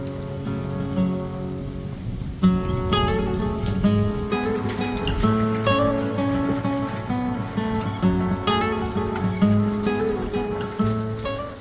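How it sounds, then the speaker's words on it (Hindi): Steady rain hisses continuously outdoors in the mountain weather, mixed with a prominent layer of music that plays throughout. "बाहर लगातार बारिश लगे जा रही है, मौसम पूरा गड़बड़ हो रहा है"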